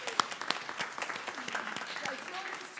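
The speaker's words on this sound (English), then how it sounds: "So let's clap for her." A church congregation claps moderately for a few seconds, scattered claps near and far, with some talking mixed in beneath.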